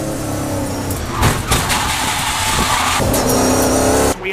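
NASCAR Euro Series Pro Division stock cars roar past close by, loud engines revving and surging in overlapping waves with brief bursts as cars pass, no voices heard.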